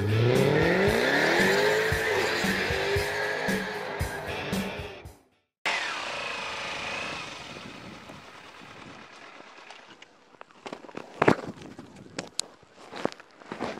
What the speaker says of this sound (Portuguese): Vamos dar uma olhada no teste da Kawasaki Ninja